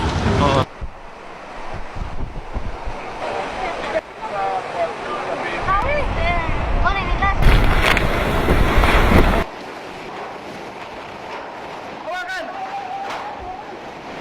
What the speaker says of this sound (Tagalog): Palagay ko ito na yung storm surge natin.